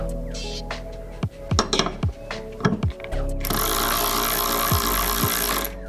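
A Ryobi 4V cordless ratchet tightens a nut, starting with a few metallic clinks and taps of handling. Then a loud, steady, close motor whir starts and holds to the end.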